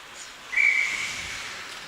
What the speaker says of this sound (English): And now we're going to have a whistle